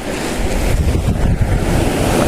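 Ocean waves wash steadily onto a beach at Real, Quezon, loud and close, rushing continuously with wind buffeting the microphone and no voices.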